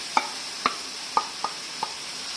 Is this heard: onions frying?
yes